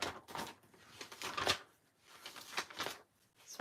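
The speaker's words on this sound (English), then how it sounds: "sorry for the noise, flipping through here." Paper catalog pages are flipped and riffled close by, several quick rustling swishes in bursts with brief quiet gaps between them.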